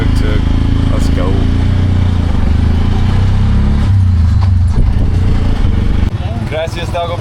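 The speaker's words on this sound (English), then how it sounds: "We got the tuk-tuk. Let's go." A tuk-tuk motor drones steadily and loudly at close range during a ride near Playa del Carmen, a low rumbling putter that runs throughout with a slight shift near the end, while voices talk over it.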